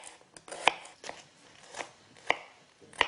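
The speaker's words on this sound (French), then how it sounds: "je vais commencer par émincer les échalotes" A knife mincing shallots on a cutting board for beef Wellington, giving sparse, sharp chops at irregular intervals, roughly five distinct strikes over a quiet kitchen background.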